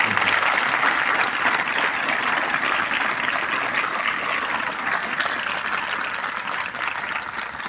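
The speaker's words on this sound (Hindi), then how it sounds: "मैं सभी से एक बार अनुरोध करूंगा कि हमारी भारतीय सेना के लिए एक बार जोरदार तालियों का अभिनंदन करें" Audience applause for the Indian Army at an NCC camp event, a dense, steady wash of clapping that stays loud and even for the whole stretch.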